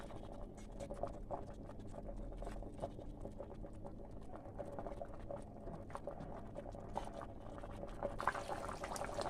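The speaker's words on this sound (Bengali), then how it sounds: "10 মিনিট চাপা দেওয়া ছিল, দেখছেন ফুটছে।" Mustard hilsa curry bubbles steadily in a covered pan, a continuous low simmering burble with small pops, fairly quiet and unbroken for several seconds.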